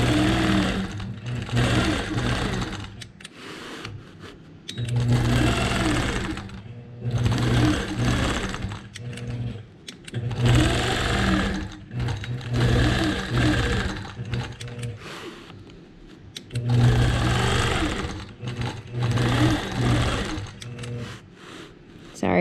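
A sewing machine runs in repeated bursts of rapid stitching while free motion quilting a leaf design along a border ruler, loud and close, with short pauses between runs and a person talking in between.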